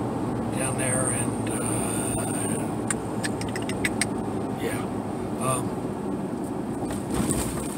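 A truck drives on a rainy day with a steady low rumble of engine and road noise inside the cab, accompanied by light rattles and clicks.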